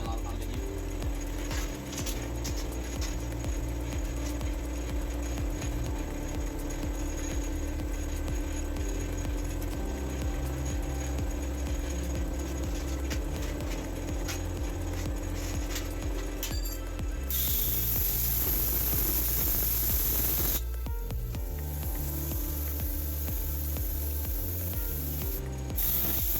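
A Haxiaoer plasma cutter set to 30 amps cuts 3mm aluminium with a continuous buzzing hum. A harsher, brighter hissing burst lasts a few seconds near the end before the steady drone returns.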